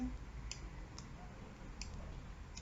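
Mouse clicks on a computer while dragging to select text in an editor: four faint, sharp clicks spaced about half a second apart over a quiet hum, with no talking.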